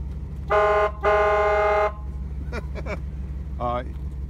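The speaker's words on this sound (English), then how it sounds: "you have both your Jeep horn and it has the fire truck horn" Two loud blasts of a deep, brassy fire truck horn fitted to a 1997 Jeep Grand Cherokee, followed by a few short chirping electronic tones and a brief warble, close by.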